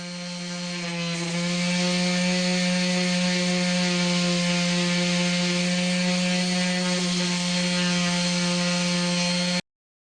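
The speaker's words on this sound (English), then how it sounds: "Then I use 80 grit and 150 grit sandpaper to remove the grinding scratches from the edges." Power sanding the epoxy-coated edges of a live edge elm end-grain slab with 80 and 150 grit sandpaper, a loud steady whining hum that ramps up, holds for about nine seconds, then stops abruptly.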